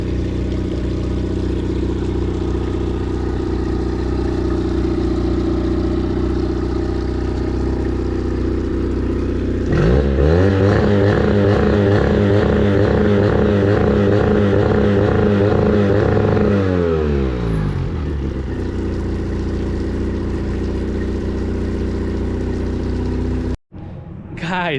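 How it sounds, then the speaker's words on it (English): A restored Tohatsu outboard motor runs steadily, its engine drone lifting into a louder, rhythmic higher-revving stretch midway before settling back to idle and cutting off abruptly near the end. "This engine runs like brand spanking new."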